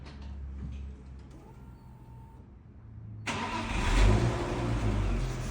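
A car engine cranks and fires up after a catalytic converter cleaning repair, then settles into a loud, steady idle after a quieter stretch.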